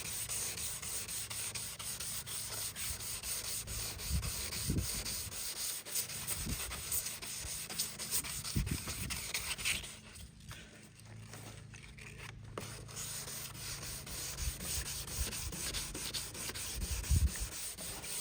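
Sandpaper of 240 grit rubs oxidation off a car headlight in steady, close scratching strokes with a few louder scuffs and a brief softer lull midway. No one speaks.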